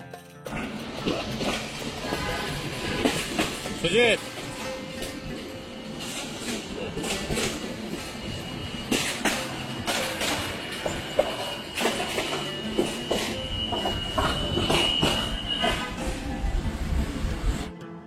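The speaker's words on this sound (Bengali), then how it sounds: "ট্রেন সিলেটের উদ্দেশ্যে যাত্রা শুরু করে।" The Upaban Express intercity passenger train from Dhaka to Sylhet rumbling along the rails, with rhythmic clatter and occasional sharp bangs over a steady mechanical roar.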